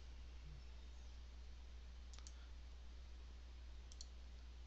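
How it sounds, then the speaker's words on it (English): Computer mouse clicks while operating Mimaki RasterLink print software, two quick double clicks spaced about two seconds apart, faint and close against a steady low electrical hum in a quiet room. "right mouse click the job"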